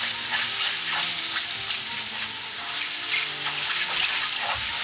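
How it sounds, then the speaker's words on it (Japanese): Mushrooms stir-fry in a pan with a dense, continuous sizzle, and faint squeaky tones show through at close range with no talking. "お子さんやお孫さんと一緒に作るときはキノコの鳴き声をぜひ聞かせてあげてください"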